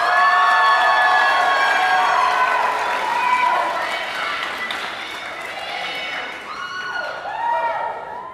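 A youth camp crowd cheering loudly at an awards ceremony for the Levites team, a dense roar of shouts and whoops that fades slightly and swells again near the end.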